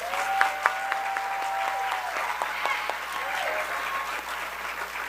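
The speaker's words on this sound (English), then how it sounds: "let's give it up for our entire Royal Court, a round of applause for their accomplishments this far" An audience at a Coppin State University coronation claps for the Royal Court, steady applause with a few sharp louder claps and cheers, a voice briefly heard over it.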